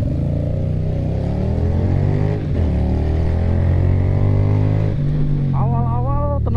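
Keeway V250FI Geronimo cruiser motorcycle engine pulling away under acceleration, a close, steady low drone with rising pitch sweeps and a brief lull in the middle.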